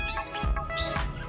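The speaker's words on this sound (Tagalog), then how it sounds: "May ibon na naglalaban." Birds chirping and squabbling outdoors during a walk, heard as a few short, high, sweeping calls repeated in quick bursts at moderate distance over a low background rumble.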